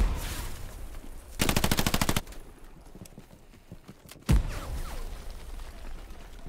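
Gunfire in the World War II shooter Hell Let Loose: a rapid machine-gun burst of evenly spaced shots, then scattered single cracks and a sharp close blast near the end, over constant battlefield rumble.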